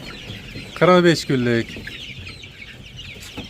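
Young chicks for sale in a farm pen give a couple of short, loud clucking calls in quick succession, close by, over a background of soft peeping and faint ambient noise.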